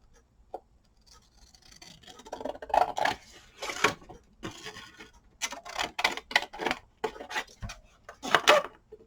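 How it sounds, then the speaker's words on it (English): Paper is cut with scissors for an envelope pocket tag, with a string of close, crisp snips and rustles in short bursts separated by brief pauses. "let's cut it to size"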